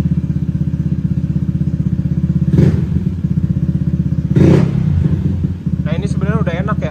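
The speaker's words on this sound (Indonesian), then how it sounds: "Coba Dan gas sentak gitu dah Dan." A bored-up automatic scooter engine idles steadily up close, then two sharp throttle blips rise and fall; a voice speaks briefly near the end.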